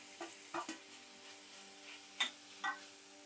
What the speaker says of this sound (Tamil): இப்போ போட்டு நல்லா வெங்காயத்தை வதக்கிக்கோங்க